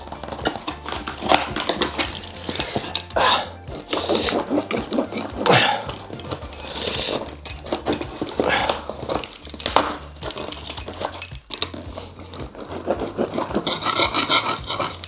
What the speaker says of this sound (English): Alright, got my box cutter.